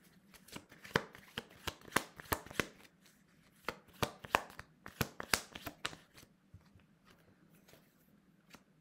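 Tarot cards being shuffled and handled for a reading, a run of crisp close riffling snaps and slaps in irregular bursts that thin out toward the end, with no talking.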